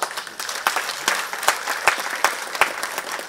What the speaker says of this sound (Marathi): त्याच्या टाळ्या सुद्धा मशालीसारख्या नाही वाजल्या.